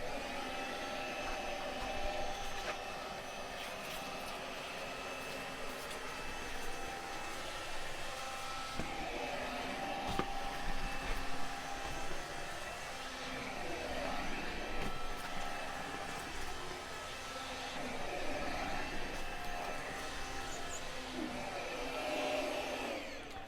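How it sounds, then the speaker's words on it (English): A Karcher window vac sucking up dirt and rainwater, a steady high-pitched motor whine with airy suction hiss and slight gurgling shifts, held continuously and up close with no talking. "I can actually vacuum up most of the dirt and the water with the Karcher window vac"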